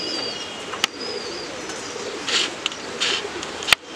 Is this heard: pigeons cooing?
yes